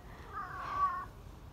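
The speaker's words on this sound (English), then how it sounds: "My beloved cat." A single rescued cat gives one soft, drawn-out meow that rises and falls over about a second, fairly faint against a quiet background.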